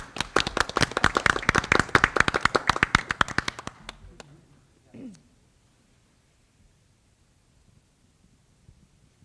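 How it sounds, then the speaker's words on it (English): A small group claps at a school board of education meeting, distinct sharp claps in a quick patter for about four seconds before stopping abruptly, followed by a brief voice and near silence. "We have to clap."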